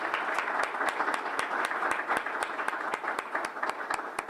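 Audience applause at a morning award presentation, moderately loud and steady with distinct individual hand claps over a broad clapping wash, no talk over it.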